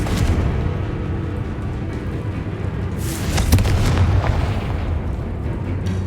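Loud, continuous rumbling explosions from the Confringo spell in the Hogwarts Legacy video game, with dense booming bursts and a sharper blast partway through, no talk.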